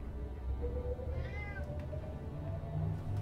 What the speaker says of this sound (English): Always a cat. Always, never not a cat.